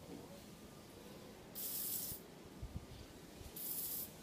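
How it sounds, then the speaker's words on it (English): Two short hissing sprays from a spray bottle onto a microfiber cloth, a couple of seconds apart, close and clear against a quiet background with faint handling noise, while cleaning a Beretta gun. "Then I spray the end of this microfiber cloth up here"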